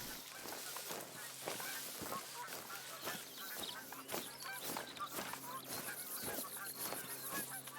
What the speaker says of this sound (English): I can hear the geese and I'm trying to work out where they are.